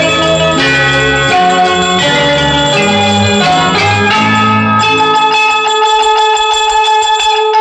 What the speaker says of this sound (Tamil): கிண்கிணி கிண்கிணி கிணி கிணி கிணி என வரும் மாதா கோயில் மணியோசை